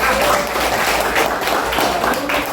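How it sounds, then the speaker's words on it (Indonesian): Classroom applause for a student named Arya, a brief, even spell of clapping from a group of pupils that fills the whole moment at close range. "Berikan tepuk tangan untuk Arya."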